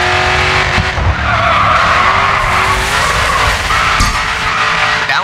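Tires skid and squeal as a race car drifts through a corner in the Grid 2 racing game on a California track, a loud continuous slide over a roaring engine with no pauses.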